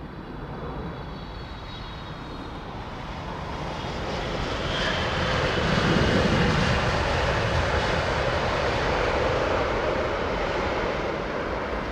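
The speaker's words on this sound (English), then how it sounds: "Okay, Dan, first landing was from Dusseldorf, this one from Jersey." A passenger airliner landing at Heathrow Airport, arriving from Jersey, its broad engine roar swelling steadily to a loud peak midway and holding there, a continuous rumble with no talk over it.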